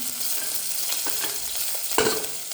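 Soya chunks frying in a pan for vegetable biryani give a steady close sizzle, with a few soft stirring scrapes and a brief louder clatter near the end, no voices.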